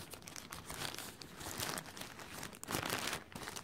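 A plastic shower cap being folded in half, a continuous close crinkling and rustling of thin plastic that swells and fades over a few seconds, with no voices.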